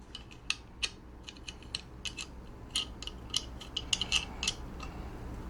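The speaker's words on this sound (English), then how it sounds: "you take the bolt and screw it" Bolt being screwed by hand into a teleprompter mount: a run of faint, quick ratcheting clicks and small metallic ticks in short irregular bursts, close up, with no voice.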